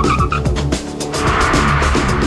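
A fully laden Mini skids to a stop during an alpine brake test, with loud tire squeal and road noise from the car holding throughout the short stretch.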